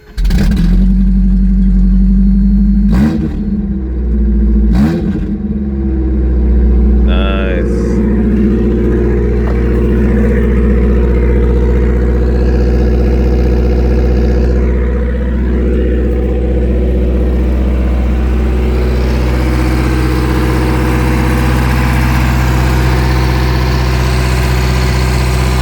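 A Toyota 22RE engine with stainless steel headers and no muffler, running straight off the pipe on first startup: a loud, raw idle with a couple of sharp revs early, then a steady rumbling idle close up.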